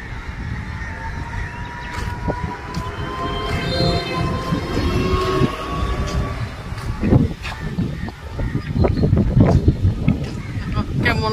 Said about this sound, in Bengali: এই যে ট্রেন যাচ্ছে।